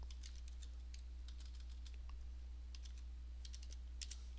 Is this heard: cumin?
no